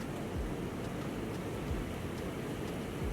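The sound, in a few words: rain outside during a thunderstorm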